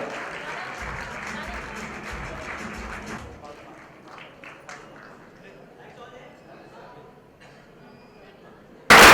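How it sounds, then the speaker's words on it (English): An audience at an awards ceremony applauds in a loud burst that fades after about three seconds, then light scattered clapping and footsteps carry on under a quieter room. "Come, please keep the applause going."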